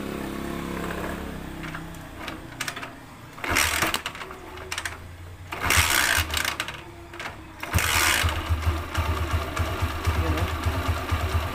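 A motorcycle with delayed acceleration, freshly started from cold, turns over and settles into a low, steady idle, with throttle blips that swell and fade; someone talks over it now and then.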